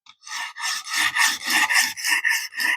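A camp knife is stroked repeatedly on a sharpening stone to push the burr back, giving about nine even, raspy scraping passes in a steady rhythm, close and clear with no talking.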